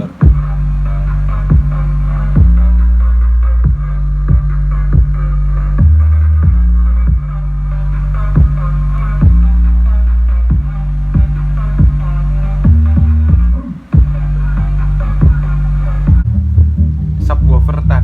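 A subwoofer box speaker plays music with heavy, steady bass thumps in a regular beat and a booming low hum, loud and close, with no talk over it.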